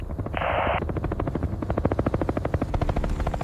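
A military helicopter approaches a battlefield. Its rotor thumps in a fast, steady pulse that grows louder and more distinct. A brief burst of hiss comes early, with rattling gunfire-like noise mixed in.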